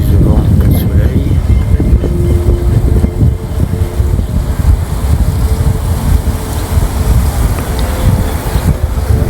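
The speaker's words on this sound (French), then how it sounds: "Il y a plus de vent que de soleil." Strong wind buffets an outdoor microphone in a constant loud roar, with heavy low rumbling gusts and no pauses.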